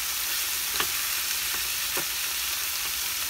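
Liver pieces fry in a hot pan, giving a steady, close bright sizzle with a few soft crackles and stirring pops throughout.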